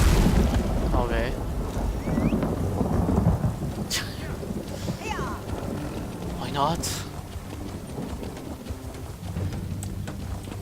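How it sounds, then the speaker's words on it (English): Steady in-game rainfall hisses beneath a man's spoken remark, while occasional distant rumbles and short sharp game effects cut through the continuous wash of rain. "Oh look, it's raining"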